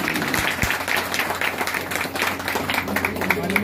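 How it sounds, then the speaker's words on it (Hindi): A crowd applauds steadily at a birthday gathering for a local legislator, held at a senior citizens' venue in Karol Bagh, as the women present are cheered. The dense, even clapping fills the room and is mixed with voices. "मैं चाहूंगा हमारी मातृशक्ति के लिए हाथ उठा के जोरदार तालियां"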